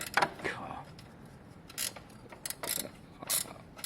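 Ratchet tightening a bolt on a Lexmoto motorcycle, short bursts of clicking spaced irregularly across a few seconds, close and moderately loud, with people talking quietly in between.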